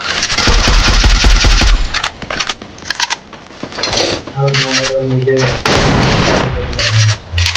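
Loud, close gunfire in a shooting video game: a heavy volley of shots at the start, then scattered bursts over game sounds, with someone talking in between.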